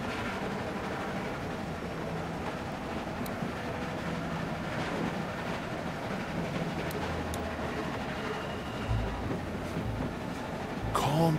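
A moving train rumbles and rattles steadily in The Walking Dead video game, with low clattering wheels and occasional metallic clicks and squeaks throughout, and no talk heard.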